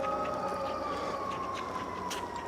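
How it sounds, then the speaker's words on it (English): A distant siren wails steadily in a long, slowly falling tone over outdoor background noise, with no one talking. "You can hear the sirens."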